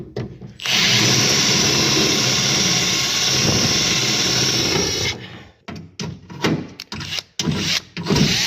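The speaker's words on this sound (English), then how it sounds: "I think I picked the bluntest drill bit" A power drill fitted with a blunt drill bit whirs loudly and continuously for several seconds, then cuts into short, stuttering bursts as the trigger is pulsed on and off.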